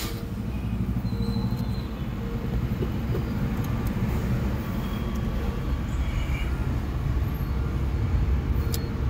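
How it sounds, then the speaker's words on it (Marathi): A Maruti Suzuki Eeco seven-seater fitted with a CNG kit runs with a steady, low engine rumble close by, even and unbroken throughout, with faint small clicks above it. "आता मी गाडी ऑन करतो।"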